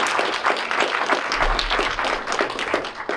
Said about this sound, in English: If we can give a round of applause to all of those folks that have put all of this together.